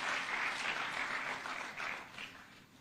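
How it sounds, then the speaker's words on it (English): An audience at a State House closing ceremony applauds in a soft, steady wash of many hands clapping at some distance. "Can give him a clap as he's coming."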